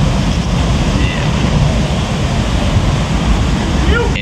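Ocean surf at the Punta Roca point break in El Tunco, El Salvador, a loud continuous roar of breaking waves with wind buffeting the microphone.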